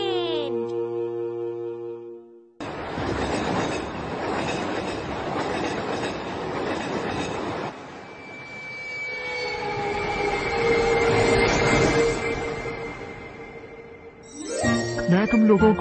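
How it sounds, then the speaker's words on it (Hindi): A cartoon train runs along railway tracks, a steady rolling rumble with rhythmic clatter and a high squealing tone, bracketed by musical tones at the start and end. "घर बना छुक छुक ट्रेन।"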